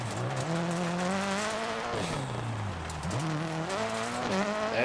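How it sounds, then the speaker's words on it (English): A 600HP Subaru rallycross car slips and slides on dirt, its engine note rising and falling sharply as revs climb, dip and surge again, loud and close throughout with no talking. "Yeah, this car slips and slides a lot."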